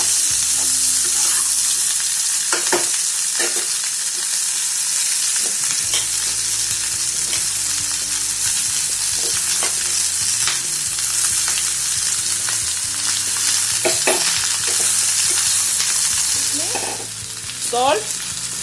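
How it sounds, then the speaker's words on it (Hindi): Chopped onion and ivy gourd fry in a pan with a constant bright sizzle. Repeated scraping strokes of a spoon stir through them, close and loud, and no one speaks. "और इसको अच्छे से थोड़ा सा चलाएंगे, जैसे कि प्याज और कुंदरू एक साथ मिल जाए।"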